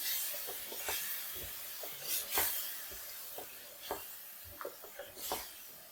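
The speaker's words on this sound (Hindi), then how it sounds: "टमाटर और दही का पेस्ट डाल दें। इसको तेज आग पे भूनते रहें।" Tomato and yogurt paste frying on high flame for chicken achar gosht, with soft sizzling and irregular scraping and stirring strokes in the pan.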